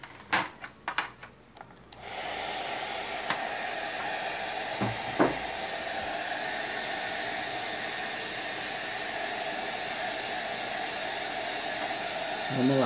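A hair dryer blows steadily to dry fresh paint on a rustic wooden coat rack, its broad whooshing hiss running continuously after a few brief knocks and taps at the start, with no talk over it.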